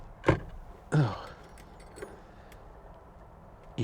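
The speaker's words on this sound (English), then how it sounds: "Oh, there are keys." Car keys jangle near the microphone while an old Porsche 924 is being examined, two short metallic bursts about half a second apart followed by faint clinks over a quiet background.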